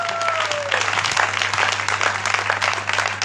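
A church congregation claps during a worship service, a close, continuous burst of mixed hand claps with some voices in the crowd.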